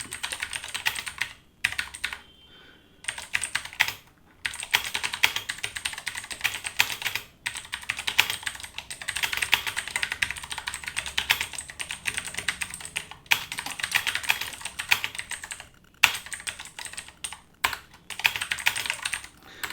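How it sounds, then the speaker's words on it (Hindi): Rapid keystrokes on a computer keyboard during Hindi and English typing tutor practice, a steady fast patter of clicks broken by a few short pauses, close and clear with no voices. "तो यहाँ पर फिलहाल आप स्मूथली आप यहाँ पर टाइपिंग जो है आप देख सकते हैं।"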